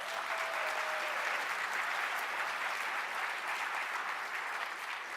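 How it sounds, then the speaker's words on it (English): Steady, even applause from an audience at a keynote on housing, a continuous wash of clapping with no pauses or voices. "So you can give a round of applause to that."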